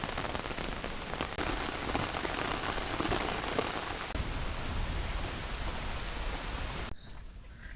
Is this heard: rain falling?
yes